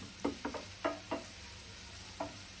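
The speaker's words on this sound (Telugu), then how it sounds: "అల్లం వేసుకొని కొంచెం కలుపుకోవాలి." Ginger being stirred in a cooking pan while making a curry, heard as about five distinct scraping spoon strokes over a faint background hiss, quiet and close with no talking.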